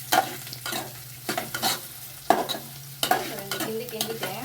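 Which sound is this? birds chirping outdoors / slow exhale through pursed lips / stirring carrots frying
stirring carrots frying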